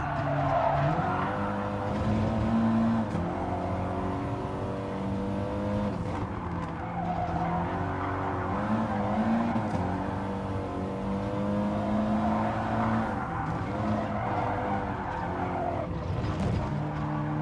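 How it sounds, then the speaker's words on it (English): Peugeot RCZ Group 4 race car in Gran Turismo braking hard into a corner at Fuji, with continuous engine drone, shifting harmonic pitch and tyre noise, loud and steady without talk. "I see the RCZ braking really late and on the inside of the corner"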